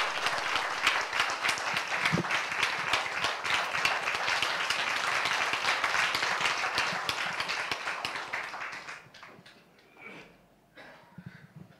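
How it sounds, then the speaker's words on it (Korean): Audience at a university breakfast classical music forum gives a lecturer dense, sustained applause that holds steady for several seconds, then thins out and fades to a few scattered claps and rustles. "큰 박수 부탁드립니다"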